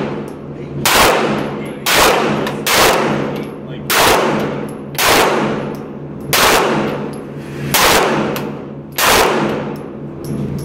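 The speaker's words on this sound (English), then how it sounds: "me and the fellas at the shooting range." Gunshots at a shooting range crack out loud and close, about eight evenly spaced sharp blasts with ringing decays, roughly one every second and a quarter, with a little faint talk between.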